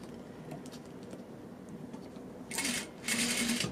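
A sewing machine with a skinny zipper foot stitches a J fly on a pair of pants, running alongside the zipper teeth in two short, close bursts of rapid whirring stitching after a quieter stretch.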